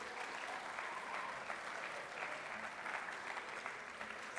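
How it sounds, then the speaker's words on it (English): An audience at a high school scholarship assembly applauds the 2022 band seniors with a sustained, even roar of many hands. It holds steady throughout, slightly distant, and nobody speaks over it. "a round of applause for our 2022 band seniors"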